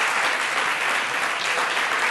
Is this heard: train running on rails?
no